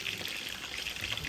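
Sauce poured over fried tempura and rice at home, a steady soft liquid trickle running continuously for about a second, close and quiet with no talking.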